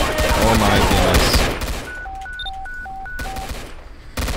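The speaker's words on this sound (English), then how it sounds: "Shots fired again." Gunshots ring out in a Roblox police game as a loud, dense burst of rapid fire over the first second and a half. A series of short electronic beeps follows, ending in a sharp burst.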